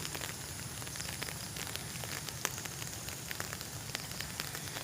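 Steady rain patters down across a pineapple farm in a dense, even wash of drops, with a few sharper taps standing out, continuous and fairly close throughout with no voices.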